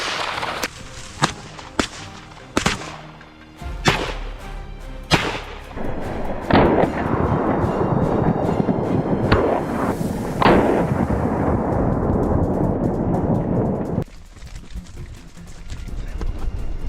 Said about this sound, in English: As soon as they entered our line of fire, we pulled the trigger.